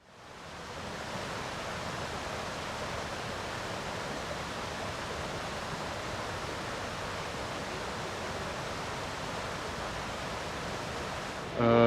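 Turquoise waterfalls near Luang Prabang, Laos, roar in a steady, dense rush of falling water that stays even and loud throughout, with no voices over it.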